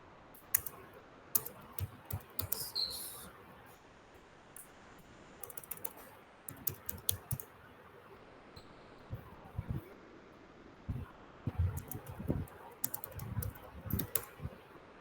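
A computer keyboard clatters as a post title is typed, in uneven bursts of rapid keystrokes separated by pauses, close and fairly soft, with no talking.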